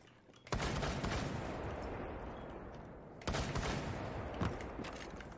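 Rapid bursts of automatic gunfire from the Rainbow Six video game, two long loud volleys of dense repeated shots separated by a brief gap, with no talk over them.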